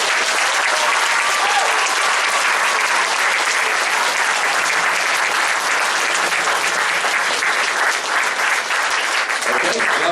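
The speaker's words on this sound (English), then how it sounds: "So a big round of applause for them." Audience at an orchestra concert of young musicians gives sustained, dense applause, loud and even throughout with no voices standing out.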